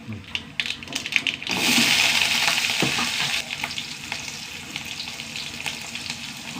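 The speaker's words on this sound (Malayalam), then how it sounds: "കടുകിട്ട് കൊടുക്കട്ടെ എന്നിട്ട് വറ്റൽ മുളക് നാല്" Mustard seeds and dried red chilies crackle and sizzle in hot oil, a loud steady frying hiss that swells after a brief quieter start and carries on alone.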